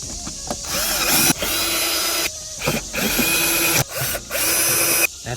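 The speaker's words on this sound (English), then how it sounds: "tighten the screws." A cordless power drill buzzes in short repeated bursts, whirring up and stopping, while driving screws into a K&N air filter housing on a 10th-gen Honda Civic Sport hatchback 1.5L turbo.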